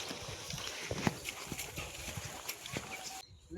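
Two horses, with a few soft hoof clops and light knocks scattered at irregular intervals, faint and close, over a low background hum.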